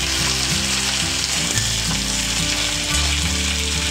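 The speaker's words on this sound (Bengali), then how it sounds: "তার উপরে দিয়ে দেবো কেটে রাখা ঢ্যাঁড়স" Chopped okra fries with dried red chillies and a mustard-seed tempering, giving a loud, dense, continuous sizzle close up. A low steady hum runs underneath and no one speaks.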